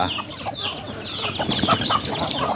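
Chickens, hens and young chicks, cluck and chatter continuously nearby, a busy mix of short overlapping calls from several birds.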